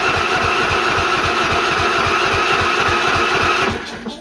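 Small lawn mower engine running steadily right after an electric start, a loud close rhythmic chugging idle that carries on alone and then cuts out near the end.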